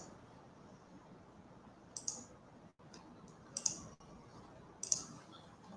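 Computer mouse clicks while working in SAP Business One software, three or four sharp, quiet single clicks spaced a second or so apart over a faint room hiss.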